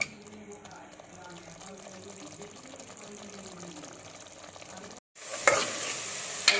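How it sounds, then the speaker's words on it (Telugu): Egg tomato curry with chilli powder stirred in a pan: a quiet, busy scraping and simmer at first, then after a brief pause a louder, steady sizzle and stir close by. "ఇట్లా కారం వేసేసుకొని మొత్తం కూర అంతా ఒకసారి కలిసేటట్టు తిప్పండి."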